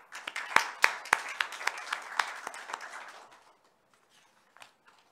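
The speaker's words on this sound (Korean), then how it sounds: "의원님들께서는 큰 박수로 환영해 주시면 감사하겠습니다" Visitors in the gallery of a county council plenary session get a short round of applause, a few hands clapping in sharp, uneven bursts that fade out within about three seconds, followed by near silence and a couple of stray claps.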